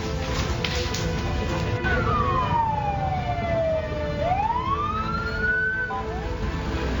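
Fire engine siren in South Bekasi, Indonesia, one of five fire engines sent to a fire at an old building under renovation: a single wailing tone that slides down then rises again over steady traffic-like background noise, fairly close and clear.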